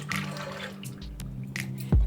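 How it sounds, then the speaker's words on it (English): Cooled Christmas treat mixture poured into a stand mixer's bowl, giving brief wet drips and squishy glugs, close and fairly quiet, ending with a sharper thick plop. "now our mixture is cool enough, so I am going to pour it into my mixer's bowl."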